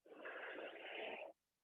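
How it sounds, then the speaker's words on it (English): A single long, steady breath is drawn in or let out, breathy and airy, lasting just over a second before it stops abruptly into silence. "Another breath."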